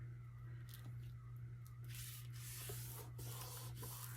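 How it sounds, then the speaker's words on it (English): Scored paper is folded over for a 12x12 passport folio, giving faint, soft rubbing and brushing sounds as the sheet slides and creases, which grow a little busier in the second half against a quiet background hum. "I am going to fold this piece over."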